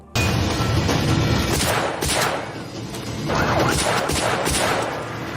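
Gunfire in a film scene as a captain empties a rifle and then switches to a pistol, a loud dense fusillade of rapid overlapping shots with sharp bursts and crashes running nearly continuously.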